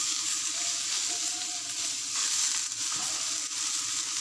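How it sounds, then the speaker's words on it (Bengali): Eggplant and potato pieces frying in oil in a pan while being stirred for a radish-greens chorchori, a steady close sizzle with occasional scraping and clinking of the spatula, no voices. "বেগুনগুলো দিয়ে আবার নাড়তে হবে ভালো করে"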